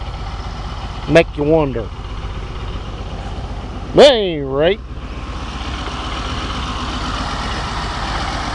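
An Oliver 1550 tractor engine runs at a steady idle in the background, a constant low rumble beneath someone talking in short bursts.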